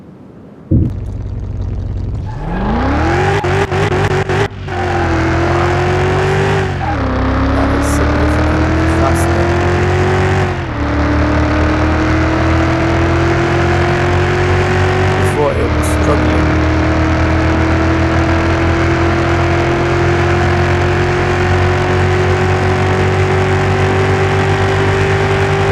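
A standard car tuned toward a sporty setup revs hard on a speed track in the video game Car Mechanic Simulator 2021. The engine drone is loud and continuous, climbing in pitch through several gear shifts.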